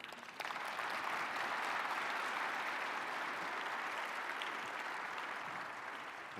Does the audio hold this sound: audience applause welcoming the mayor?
yes